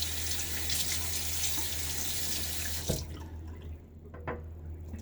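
A bathroom tap runs steadily into a sink for a rinse after a wet shave, a dense rushing stream that cuts off abruptly near the end, leaving a few faint drips and small clinks.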